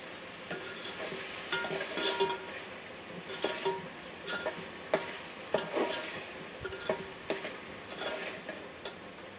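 Vegetable curry cooking in oil outdoors, a steady low sizzle with scattered clicks and scrapes of stirring throughout, moderately quiet and with no talking.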